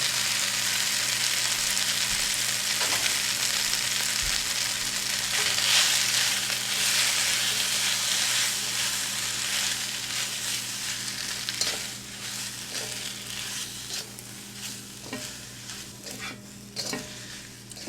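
Lo mein noodles sizzle and fry steadily in a hot pan, with continuous crackling and occasional stirring scrapes and clatters, close and fairly loud throughout.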